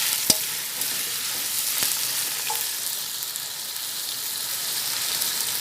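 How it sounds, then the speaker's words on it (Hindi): Chicken and potato pieces fry together in a pan for aloo chicken, giving a steady dense sizzle throughout with a couple of sharp clicks near the start, and no voice over it. "अब ये साथ साथ फ्राई होंगे चिकन के साथ।"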